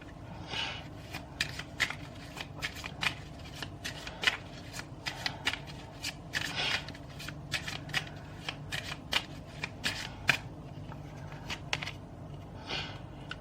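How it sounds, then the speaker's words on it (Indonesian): Tarot cards shuffled in a steady run of crisp riffling snaps and soft slides, close and fairly quiet, continuing without talk. "kita lanjut ya pakai kartu inilah"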